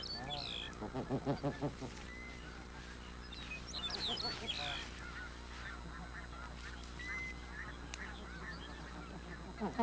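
Arctic geese honking repeatedly, a burst of loud calls early on followed by scattered honks and softer cackling over steady background noise.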